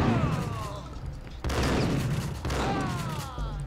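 Slowed bullet-time gunfire during a bank robbery shootout in Max Payne: heavy, drawn-out shots and booming bursts in a warped, echoing wash, with two sharp loud onsets partway through.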